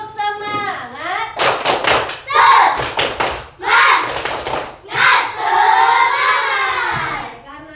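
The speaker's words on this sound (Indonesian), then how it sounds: "Tepuk semangat." Schoolchildren in a classroom clap a rhythmic spirit pattern, bursts of quick claps and thumps broken by pauses, while their voices chant loudly along with the beat.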